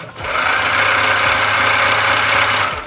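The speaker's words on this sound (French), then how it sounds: "Et le moteur, il tourne." A motor hums steadily after a brief start, a close, even mechanical whir with a slight rattling vibration.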